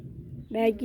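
A guinea fowl gives a single harsh, nasal call that rises out of a quiet, low background rumble, close and fairly loud.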